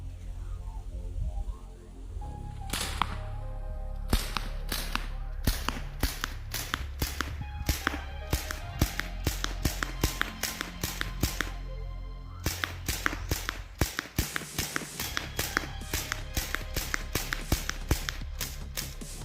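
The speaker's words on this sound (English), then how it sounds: "This is when I first fired the gun. This is a fresh, brand new 90-gram CO2 cartridge." A SIG Sauer MPX air rifle running on a fresh 90-gram CO2 cartridge fires a long, rapid string of sharp, snappy pops at an uneven but quick rhythm, close and fairly loud, with a short pause before the shooting starts.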